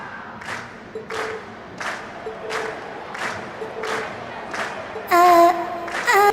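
A crowd chants and cheers in rhythmic bursts at a performance in the video game Trails of Cold Steel, about nine evenly spaced shouts, closing with a louder cheer and musical tones.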